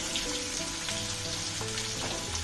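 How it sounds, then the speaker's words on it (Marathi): Onion sautéing in a pan while cooking a spicy dry soybean curry gives a steady, soft sizzle with faint crackles, continuous and close, with no talking. "आता यामध्ये आपण टाकूया कांदा हा कांदा आपल्याला गुलाबीच्या रंगावरती परतून घ्यायचा आहे"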